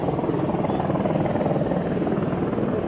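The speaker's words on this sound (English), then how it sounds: "Let me see if I can see the helicopter from here. I can hear it." A yellow helicopter flying overhead above a Barcelona street gives a loud, steady rotor roar that fills the whole stretch without a break.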